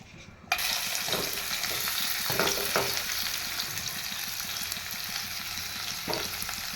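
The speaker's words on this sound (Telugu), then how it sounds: "ఇందులోనే కొంచెం కరివేపాకు, ఉల్లిపాయలు వేసుకున్నాము." Onions and curry leaves hit hot oil in a pan and set off a loud, steady close sizzle that holds throughout, with a few stirring scrapes.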